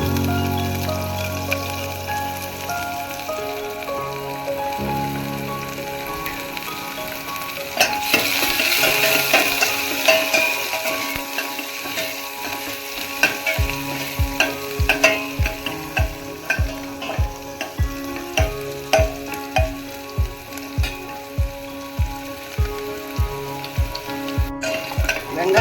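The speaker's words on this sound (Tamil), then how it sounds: "தாளிப்பு பார்க்கலாம். தாளிப்பு தாளிக்கிறதுனா வாசனை." Garlic and spices tempering in hot oil for a white kurma, with a steady dense sizzle. Partway through, a utensil starts rhythmically scraping and stirring the pan in regular strokes, with no voices.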